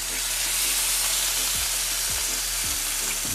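Duck breast searing on a plancha griddle, a loud continuous sizzle and hiss with a few soft scrapes as the meat is moved.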